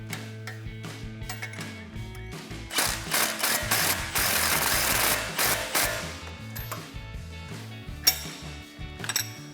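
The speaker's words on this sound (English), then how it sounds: "use that same 19mm socket and wrench and tighten that down" A 19mm socket and wrench tightens a nut on the outer mount of a Mammoth dual steering stabilizer on a Jeep Wrangler JK, giving rapid close ratchet clicks in bursts with metallic clinks between them.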